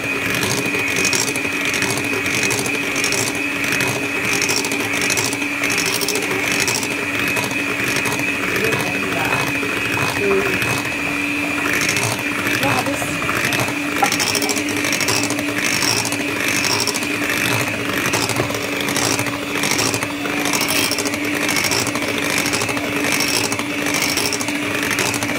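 An electric mixer runs steadily, whirring and rattling as it beats batter for kue pukis throughout, with a continuous mechanical buzz close by and a faint voice now and then.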